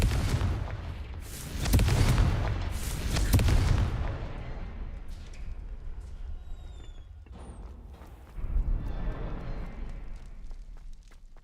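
A Confringo fire spell detonates in Hogwarts Legacy, giving loud booming blasts with a rumbling tail, then a second heavy impact later on, with no talk over it.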